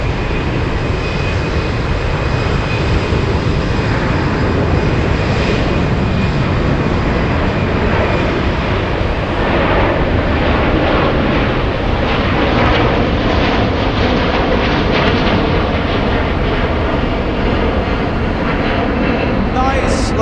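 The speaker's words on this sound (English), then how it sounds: "We do have a big one taking off." A Discover Airlines jet bound for Orlando roars down runway 25 Center at Frankfurt on takeoff, a loud broad continuous engine rumble filling the whole stretch with a slowly shifting tone, heard from a distance across the airfield.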